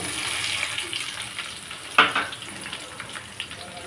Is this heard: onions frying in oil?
yes